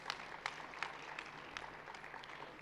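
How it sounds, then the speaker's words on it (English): Soft, scattered clapping from a crowd greeting mayoral candidates at a South African ANC local government announcement, thin and fairly distant, with a few sharper claps standing out over a steady patter. "Let's give them a good round of applause"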